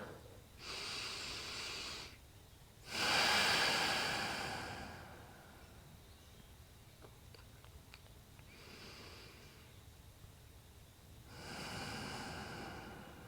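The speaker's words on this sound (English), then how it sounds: "Nice big belly breaths." Slow, deep belly breaths during a gentle yoga twist, with four long, soft, airy inhales and exhales spaced seconds apart. The breathing is close and quiet, with hushed pauses between breaths.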